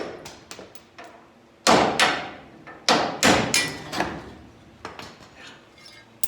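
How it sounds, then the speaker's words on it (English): Hammer beating cut-off bolts out of the frame rails of a 1971 Plymouth Cuda during restoration, a series of sharp metallic strikes, several loud and close with ringing decay, spaced irregularly with lighter taps between. "So we'll just beat them bolts out the other side."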